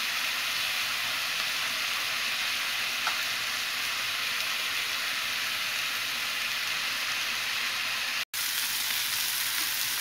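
Marinated chicken tikka pieces fry in oil in a pan, giving a steady, dense sizzle that holds evenly for the whole stretch, close and unbroken apart from a momentary dropout near the end, with no one talking.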